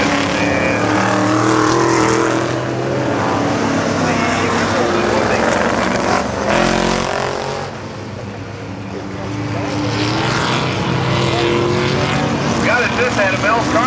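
Vintage modified race cars roar around an oval track during a night of racing at Glenridge, a loud continuous engine drone with passing swells and a dip near the middle, under steady announcer commentary.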